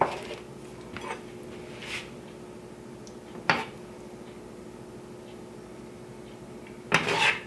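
A spoon stirs sausage mushroom gravy in a pan, with a few soft scrapes and clinks spaced seconds apart over a low, steady kitchen background.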